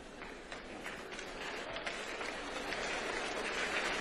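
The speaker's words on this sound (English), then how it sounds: "that kind of applause that's just going to grow as it goes around" Applause from a college audience at a talk spreads and thickens into a sustained, moderately distant patter of many hands, with scattered sharper claps near the start.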